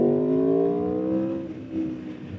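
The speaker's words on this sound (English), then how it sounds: "That V4 engine is fantastic." An Aprilia RSV4 1100 Factory motorcycle's V4 engine runs with a smooth, steady tone that eases off and settles toward idle, close by and moderately loud.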